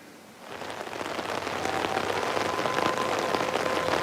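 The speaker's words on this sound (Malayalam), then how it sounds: "ശക്തമായിട്ടുള്ള മഴ ഇപ്പോൾ ആരംഭിച്ചിട്ടുമുണ്ട്" Heavy rain pours over Kochi city under an overcast sky, starting quieter and building within the first half second into a steady, dense hiss of drops on surfaces that holds loud and continuous to the end, with no voices.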